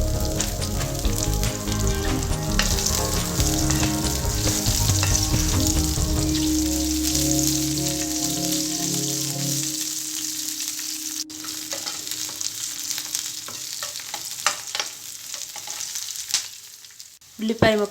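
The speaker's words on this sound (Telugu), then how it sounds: "పచ్చిమిరపకాయలు ఫ్రై అయిన తర్వాత ఉల్లిపాయ ముక్కలు వేసుకోవాలి." Green chillies and onions fry in a pan with a dense, loud sizzle and crackle under occasional stirring, gradually settling to a quieter hiss with a few clinks toward the end.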